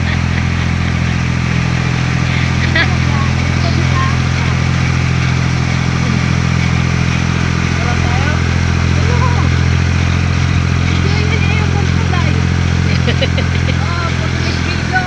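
A heavy tractor engine chugs at a steady low idle, loud and continuous, with faint clattering over the rumble.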